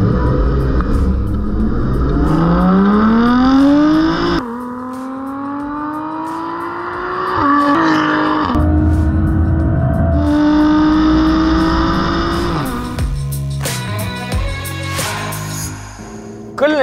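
A Lotus Evora GT sports car engine revs hard and climbs through the gears on the road, pitch rising and dropping between shifts, loud and close throughout.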